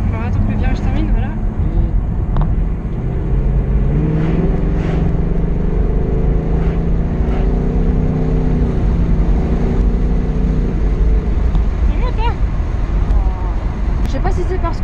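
A Ford Mustang GT convertible engine rumbles loudly up close under light acceleration through a bend, a steady low drone running under continuous talk from people in the car.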